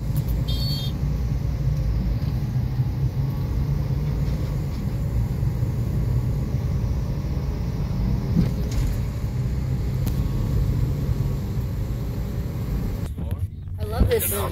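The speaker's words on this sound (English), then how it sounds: "I'll try to get some like the proper Batam driving" Busy street traffic in Nagoya, Batam, Indonesia: a steady rumble of car and motorbike engines heard from inside or beside a moving vehicle, continuous and close, with a brief clatter near the end and no clear speech.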